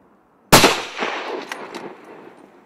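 A hunting rifle fires once at a maral deer, a sharp loud crack followed by a long rolling echo that fades over a couple of seconds.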